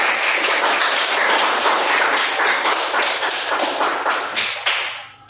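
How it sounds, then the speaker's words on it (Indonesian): A classroom group of students applauds a presenting group, a loud, dense patter of clapping that holds steady for several seconds before thinning out and stopping near the end. "tepuk tangan untuk kelompok 1"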